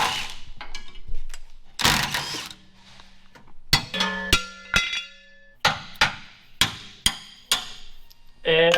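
Sharp metallic hammer strikes ring out on metal brackets while building a tube bumper for an off-road school bus, a burst of scraping first, then a run of regular, resonant blows close by.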